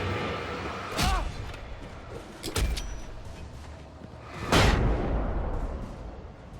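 Flashbang explosions in the video game Alan Wake: three loud, sharp blasts spaced a second or two apart, each ringing out over a low, steady game ambience.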